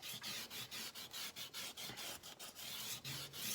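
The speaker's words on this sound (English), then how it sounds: "Try to make sure that it's straight, and burnish it down." A burnishing tool rubs a freshly glued strip flat, making about a dozen quick, rhythmic scraping strokes close by, with brief pauses between passes and no talking.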